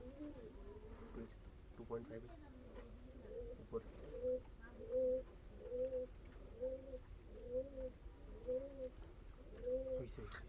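Pigeons coo at a pigeon farm keeping fancy breeds, with soft, close, rhythmic two-note calls repeating roughly every second against a quiet background.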